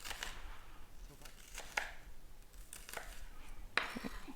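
Kitchen knife cutting through an onion on a cutting board, a few distinct sharp chops and slicing strokes spaced irregularly, close and fairly faint over quiet room noise.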